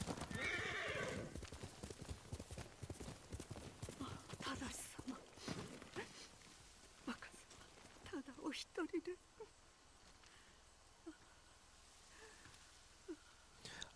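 Horse hooves and neighing in a video game, a whinny and fast clip-clopping hoofbeats that slow into scattered steps, quiet and close.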